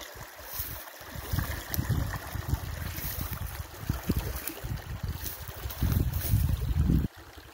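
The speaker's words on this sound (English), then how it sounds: "water flows strong and the water is deep" Strong, deep water flows through a lake on a forest trail, a continuous close rushing and gurgling with uneven splashy surges that cut off abruptly near the end.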